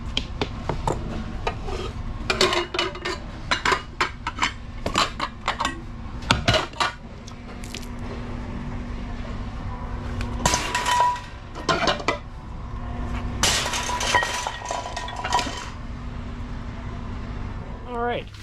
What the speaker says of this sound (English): just making sure all these pans are aluminum.